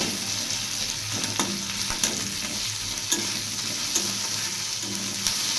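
Garlic frying in oil for masoor dal, a continuous loud sizzle with regular scraping knocks of a spatula stirring in the pan roughly once a second.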